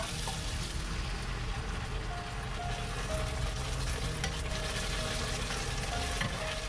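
Stock for sliced mushrooms and pork boils hard in a wok over high heat after aromatics are stir-fried, giving a dense, steady bubbling hiss with no pause.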